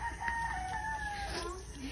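Chicken clucking and calling close by in a short outdoor burst, with faint voices in the background.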